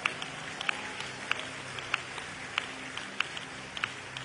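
Church congregation clapping hands during a service, a soft spread-out patter of applause in a large room with sharper periodic claps or beats cutting through at a steady rhythm, moderately quiet throughout.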